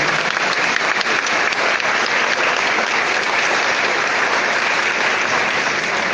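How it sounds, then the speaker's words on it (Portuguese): A church congregation gives a loud round of applause for the mother parish, sustained dense clapping filling the space at an even level from start to finish. "Mais uma salva de palmas à paróquia mãe."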